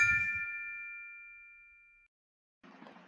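A single bright notification bell ding from a subscribe reminder rings out clearly and decays smoothly over about two seconds, followed by a brief gap and faint noise.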